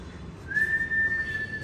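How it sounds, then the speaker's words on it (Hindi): A person whistles a single sustained, fairly steady high note for about a second, clear against a low indoor room background. "सीटी मत बजाओ भाई"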